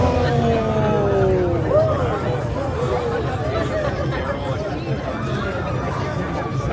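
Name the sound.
crowd walking and chattering at Knott's Scary Farm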